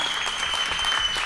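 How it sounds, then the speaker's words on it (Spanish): An audience applauds a blues band celebrating its 35-year anniversary, a dense, steady burst of clapping that stays loud from start to finish. "fuerte el aplauso"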